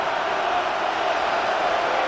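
Stadium crowd in Madden NFL 26 during a Raiders–Broncos game roars in a steady, loud, unbroken wash of cheering noise that holds at full volume throughout.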